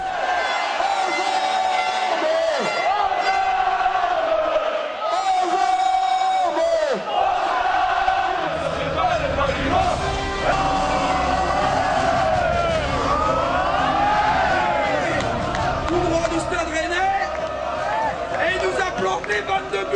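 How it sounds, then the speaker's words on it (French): A huge crowd of thousands of LOSC supporters celebrates at a title parade, with sustained cheering, chanting and whistles. A siren-like wail rises and falls through the din, and a voice speaks over it. "Un dernier bain de foule en présence de milliers de supporters qui n'ont pas fini de savourer le sacre"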